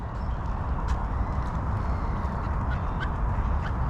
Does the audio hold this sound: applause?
no